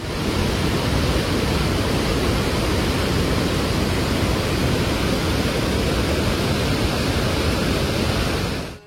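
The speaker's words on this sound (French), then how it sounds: "il y a plus de 6000 tonnes d'eau chaque seconde qui coule dans ces cascades" Iguaçu waterfalls in Brazil roar as a steady, loud, dense wash of rushing water, unbroken from start to finish with no voices.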